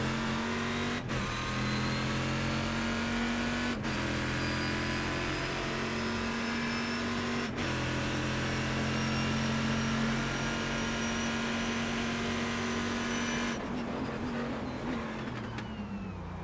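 Race cars in an iRacing sim replay drone steadily with a continuous engine note, broken by a few brief gear-shift dips, loud and close throughout with no talk.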